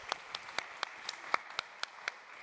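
Scattered, sparse hand claps from an award ceremony audience, about ten distinct claps in a loose rhythm, faint and somewhat distant. No voices are heard.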